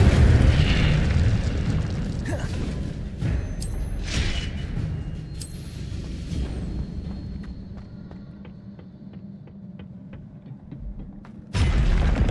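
Fiery spell blasts from Incendio in Hogwarts Legacy, a series of loud booming bursts with crackling flame, repeating over game ambience with quieter stretches between, then a sudden loud burst at the end.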